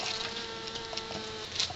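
A tightly packed honeybee swarm buzzes softly in a close, steady drone with faint flickers of individual wingbeats.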